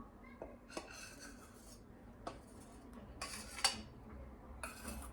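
Dough mixture stirred into flour in a bowl for Easter bread, quiet scraping with intermittent clinks of a utensil against the bowl, close and soft.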